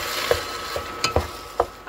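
Eggplant caviar with minced sweet pepper simmers in a pot while a spoon stirs it, making four or five close, distinct scraping strokes over a soft bubbling sizzle, with no voices.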